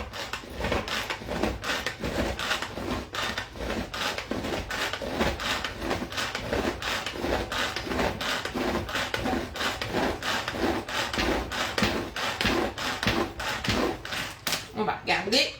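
A knife chops filling for cheese-stuffed tomatoes on a board in a kitchen, with rapid, steady close taps repeating for the whole stretch, and a voice talks at moments over the chopping.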